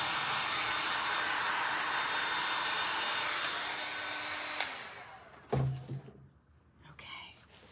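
A hair dryer blows steadily as it dries paint on a thrifted wooden board, a loud, even whoosh lasting several seconds before it cuts off, followed by a few quieter handling knocks.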